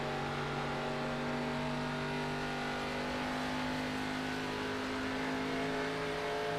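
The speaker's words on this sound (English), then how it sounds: "You can hear how long Logan's out of the throttle" An ARCA stock race car engine drones steadily at a distance, a continuous buzzing hum that holds an even pitch throughout.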